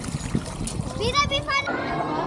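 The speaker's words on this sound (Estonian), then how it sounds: "Ja siis kallas endale ämbri vett peale." Splashing and spattering as a bucket of water is poured over a child, heard under chatter with a voice, the water noise fairly close and uneven across the clip.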